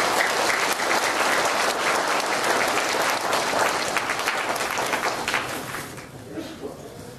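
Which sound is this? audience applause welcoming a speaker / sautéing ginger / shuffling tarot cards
audience applause welcoming a speaker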